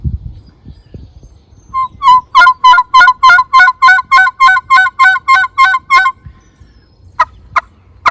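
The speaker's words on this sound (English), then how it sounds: "You just heard the cackle of the wild turkey they make when they fly up into the trees" A wild turkey cackles loudly and close, a rapid run of about a dozen evenly spaced clucking calls, followed by a few isolated clucks after a short pause.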